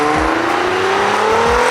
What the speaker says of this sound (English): Damn, Mclarens are fast.